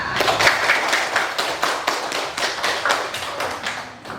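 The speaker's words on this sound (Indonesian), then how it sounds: "Oke, aplaus dulu kita." Audience at an SMK Negeri 6 Tanjung Jabung Timur school presentation breaks into steady, fairly close clapping that carries evenly through the whole stretch without any talk.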